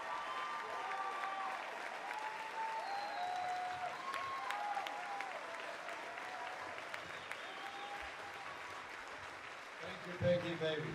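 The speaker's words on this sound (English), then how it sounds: "And the crowd goes wild." A crowd applauding and cheering for actor Adam West in Seattle before Emerald City ComiCon, continuous clapping heard somewhat from a distance with whistles and shouts mixed in.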